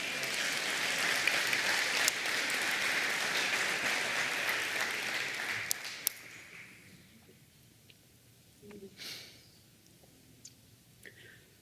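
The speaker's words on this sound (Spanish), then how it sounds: "Le da otro aplauso al Señor" A church congregation applauds during a sermon, a sustained wash of clapping for about six seconds that tapers off into a quieter room with a few scattered sounds and faint murmurs.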